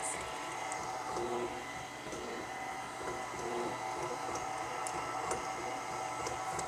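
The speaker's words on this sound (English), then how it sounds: "we've got all our wet ingredients here in the mixer" An electric mixer runs steadily, beating the wet ingredients for keto pumpkin bread with a constant whirring drone close by, no voices.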